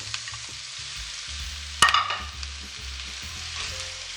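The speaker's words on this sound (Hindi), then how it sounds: "प्याज को हमने ज़्यादा पकाना नहीं है, बस थोड़ा सा इसको सौते करना है।" Onions sautéing in oil for an Azerbaijan-style parda pulao give a continuous close sizzle with stirring scrapes and a sharp metallic clank partway through.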